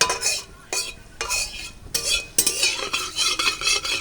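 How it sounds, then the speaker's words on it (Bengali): Panch phoron seeds stirred and frying in a pan for raw mango chutney, with a close, steady sizzle broken by repeated scraping strokes of a spoon against the pan. "অল্প একটু পাঁচ ফোড়ন দিয়ে দেবো ফোড়নটা একটু নাড়াচাড়া করে ভেজে নেব"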